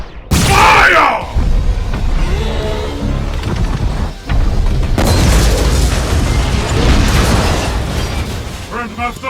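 Heavy explosions from weapons fire in an animated fight between a warship and fighters, a loud booming blast followed by rumbling bursts and shouting voices mixed in.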